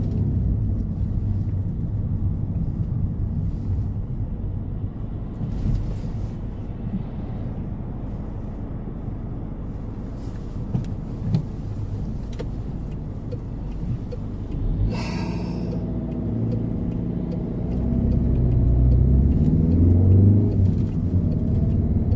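Car driving on a road, a continuous low engine rumble and road noise from inside the vehicle, growing louder near the end, with no talk.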